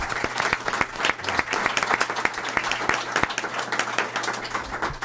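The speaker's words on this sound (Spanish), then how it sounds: "Quisiera pedirles un aplauso a los y las panelistas, por favor" An audience applauds panelists at a human rights forum on Afro-descendants in Latin America, with steady, moderately distant clapping from many hands and a faint murmur beneath.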